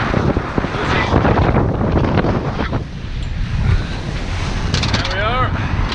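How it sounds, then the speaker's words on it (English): Strong wind of 18 to 20 knots batters the microphone aboard a reefed sailboat crossing from the Seychelles to the Maldives, a loud continuous roar with waves beneath and a voice speaking through it. "It's a lot of wind, sorry for that."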